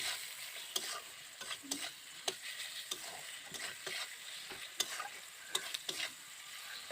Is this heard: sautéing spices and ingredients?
yes